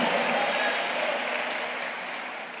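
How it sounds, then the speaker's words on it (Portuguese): A church congregation at a Baptist communion service applauds in a dense, steady wash of clapping that fades slightly over a few seconds, with no talk over it. "Aplauda o Senhor e dê um brado de vitória."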